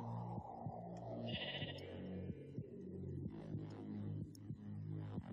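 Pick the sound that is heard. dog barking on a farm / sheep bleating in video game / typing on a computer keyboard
sheep bleating in video game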